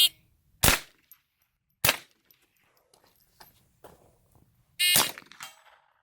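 Rifle shots ring out at targets on an outdoor range, three sharp reports spaced irregularly over several seconds, with faint clinks and shuffling between them and a longer ringing blast near the end.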